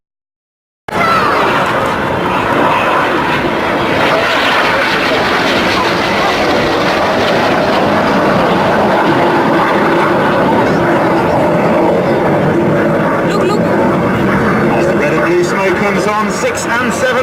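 Red Arrows display jets flying a barrel roll at the Folkestone Air Show, a loud continuous roaring rush that swells and holds throughout, with a commentator talking over it.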